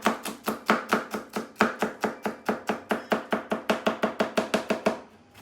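A knife chops jalapeños on a cutting board for fresh salsa, about twenty crisp, evenly spaced strikes in a quick steady rhythm, close and clear, then quiet.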